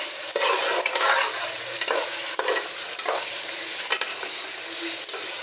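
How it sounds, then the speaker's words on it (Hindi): Ghee sizzles in a kadhai for palak gosht, a loud close crackling hiss punctuated by regular stirring strokes and no speech. "ये मैंने घी लिया है कढ़ाई में और इसको मैं अब करती हूँ फ्राई"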